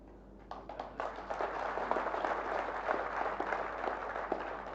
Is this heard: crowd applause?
yes